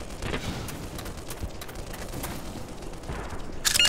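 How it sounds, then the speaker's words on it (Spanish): Gunfire in the video game Black Mesa, with scattered muffled bursts and booms that sound distant and somewhat dull, ending with a sharper, louder crack at the close. "¿Los disparos que escucho vienen de la radio o es que vienen de por aquí cerca?"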